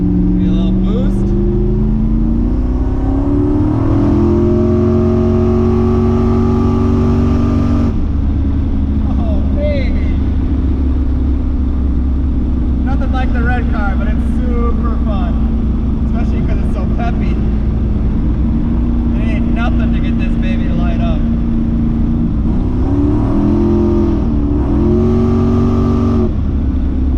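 A twin-turbo daily driver car accelerates on boost, its engine note loud and close as it climbs through rising pitches. It drops back and surges again while a voice talks over parts of the run.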